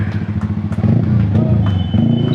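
Several Yamaha R15 sport motorcycles ride off together at the start of a rally, engines droning and revving loudly nearby in an overlapping, continuous rumble, with voices faintly mixed in.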